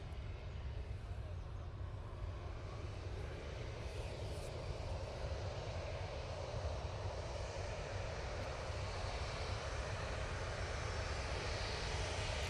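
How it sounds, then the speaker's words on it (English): A Ryanair Boeing 737 jet at Manchester Airport makes a steady, loud engine roar that holds without a break, a broad continuous rumble of a nearby airliner. "Ryanair 7-3 coming on in front of us."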